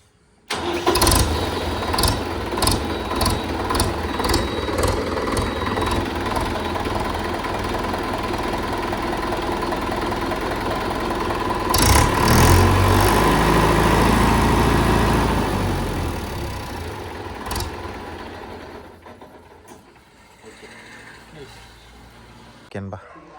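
A Mahindra Yuvo Tech Plus 585 DI 4WD tractor engine cranks and starts with a burst of sharp knocks, then settles into a loud, steady diesel idle close by before easing off near the end.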